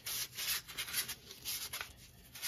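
Sandpaper rubs back and forth over a sticky rubber typewriter platen in close, quiet, steady strokes, a soft scratchy rasp with no voices.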